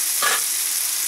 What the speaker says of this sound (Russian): будем поджаривать лук до готовности.